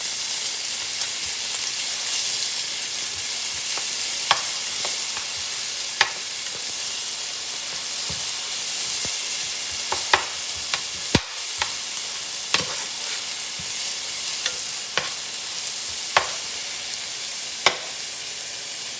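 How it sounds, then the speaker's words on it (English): Ginger garlic paste frying for mutton biryani gives a loud, steady hissing sizzle throughout, broken by sporadic sharp clicks and taps of a spoon stirring in the pan. "Now let's add in our ginger garlic paste. Let's mix them together."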